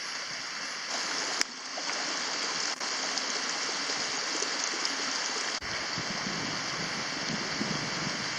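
Black Brook in Cape Breton, Nova Scotia, rushes past a hiking trail with a continuous, fairly close hiss of flowing water, broken only by a few faint clicks and bumps.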